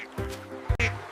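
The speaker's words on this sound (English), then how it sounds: "It's a duck." A duck quacks twice in quick succession, close and clear, each call short and nasal with no other sound around it.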